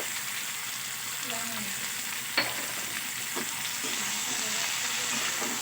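Mixed vegetables for a Bengali niramish panchmishali dish with bori sizzle steadily in a pan while being stirred with salt, a continuous close frying hiss broken by a few sharp spatula clicks and scrapes.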